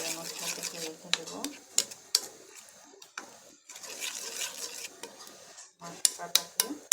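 A spoon stirs spice masala for fish bhuna in a cooking pot, making repeated scraping and clinking strokes with sharp metallic taps. A voice can be heard faintly beneath the stirring.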